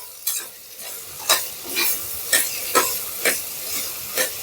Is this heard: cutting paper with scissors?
no